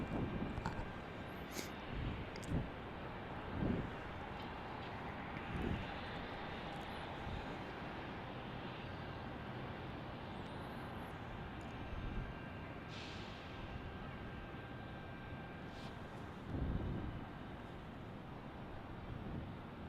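An American airliner on final approach to Salt Lake City airport, heard as a faint, distant, steady engine rumble that holds for the whole stretch with no one talking.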